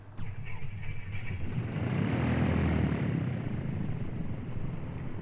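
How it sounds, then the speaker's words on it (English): A light airplane's piston engine comes to life in a 1960s flying-lesson setting, building from a faint crank into a steady, loud propeller drone that holds throughout, with no talking. "If you're ready to go, I'll start the engine."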